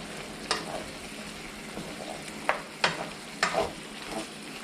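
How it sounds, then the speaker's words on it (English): A spoon stirs pork adobo simmering in a single pot with onions, garlic and bay leaves, giving a few distinct scraping knocks and clinks over a soft bubbling simmer. "All right, so we're simmering really good right now. I'm going to give it a stir."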